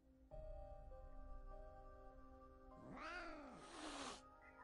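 A cat in a video game yowls and meows in a drawn-out, rising and falling cry over a steady background music drone, fairly close and clear with no talk.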